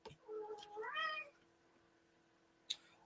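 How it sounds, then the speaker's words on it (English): A cat gives a single drawn-out, rising meow close by, followed by quiet and a brief sharp click near the end. "I don't know why he's meowing."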